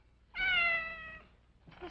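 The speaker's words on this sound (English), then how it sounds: "Mr. Black Cat's a lot like Coley used to be." A black cat gives one clear, drawn-out meow close by, followed by a faint start of another sound in a quiet room.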